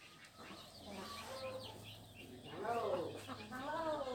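A rooster clucks and calls among people talking in Vietnamese, its rising harmonic cries loudest near the end over a steady background hum.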